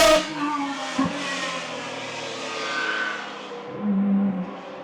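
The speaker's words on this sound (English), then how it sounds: "That's what race cars should sound like." Race cars at a town hill-climb race roar past with loud, high-revving engines, the note sweeping down as they pass close by, followed by another car accelerating up, with a crowd of spectators standing nearby.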